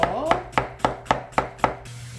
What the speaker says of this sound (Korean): 영업집에서는 양배추 곱게 채썰어 주고요.